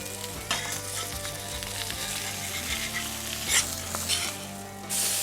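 Seeded burger buns sizzle steadily on a hot griddle, a continuous crackling fry with occasional scraping and shuffling sounds nearby.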